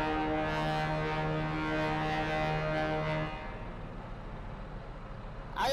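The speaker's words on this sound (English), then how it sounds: "it's a ship foghorn" The MTL Apocalypse Cerberus truck in GTA Online blasts its ship-style foghorn: one long, deep, loud harmonic blare holding for about three seconds, then stopping to leave a low engine rumble, with a brief sharp noise at the end.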